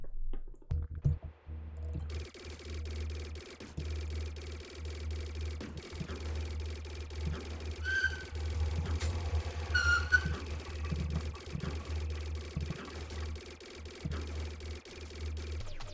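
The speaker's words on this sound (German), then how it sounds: "Ich schieße jetzt hier schon gut eine Minute dran an dem Boss-Salmon." Shooting at a boss in the space game DarkOrbit: a busy stream of soft clicking and squishy weapon-fire effects over a low steady hum, with a few brighter chirping tones partway through, no voices.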